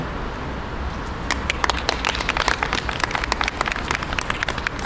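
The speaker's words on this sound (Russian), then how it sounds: "Спасибо за ваши аплодисменты" An audience at a poetry reading in Grodno bursts into applause, dense rapid clapping building after a second and continuing steadily, close and loud over a room murmur.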